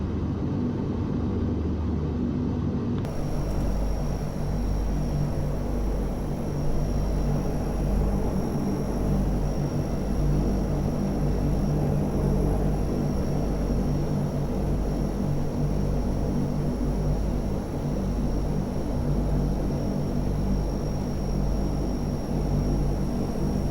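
Propeller engines of a 1957 Convair CV-580 passenger airliner on the runway, a loud, steady droning rumble with a constant high whine, heard from inside the cabin and unbroken throughout.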